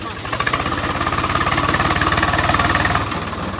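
A farm tractor's diesel engine runs close by with a fast, steady knocking throb that holds loud and even before easing slightly near the end.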